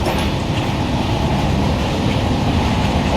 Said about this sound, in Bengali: রাজধানী এক্সপ্রেস প্রায় 130 কিলোমিটার গতিবেগে দৌড়চ্ছে